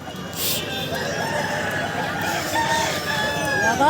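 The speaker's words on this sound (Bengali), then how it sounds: "এই এটা দেশি মুরগা" A local desi rooster crows loudly and close by at a busy rural chicken market in Balarampur, Purulia, one long drawn-out crow over a steady crowd murmur with other fowl clucking.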